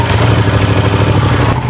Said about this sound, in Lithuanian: Ir užveskiam ir pašildykiam variklį iki darbinės temperatūros.